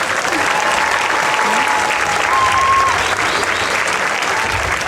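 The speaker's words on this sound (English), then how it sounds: "So give yourselves a round of applause." Applause at a school graduation ceremony, a large crowd clapping in a continuous, even roar, loud and sustained for the whole stretch with no pause.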